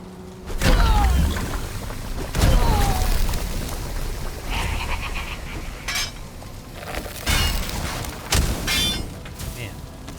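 Bombs detonating in the Valheim game, several heavy broadband booms at irregular intervals, loud and close, with crackling debris and game effects between blasts.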